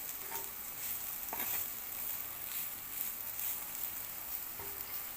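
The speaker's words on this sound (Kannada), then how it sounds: "ಇನ್ನೊಂದು ಹಂಚಲ್ಲಿ ಕಾಯಿ ಫ್ರೈ ಮಾಡ್ತಾ ಇದ್ದೀನಿ." Grated coconut frying in a pan, a soft continuous sizzle with faint scraping stirs and a couple of brief clinks, fairly quiet and steady throughout.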